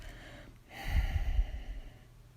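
Forceful breath during a yoga practice, a single sharp, close exhale that swells and rustles for about a second before fading out, with no speech over it.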